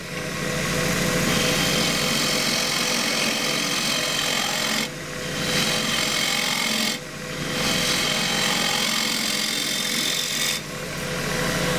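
Wood lathe spinning a small green wood bowl while a turning tool shear-scrapes it, a steady close rasping hiss broken by three brief dips as the cut lifts off.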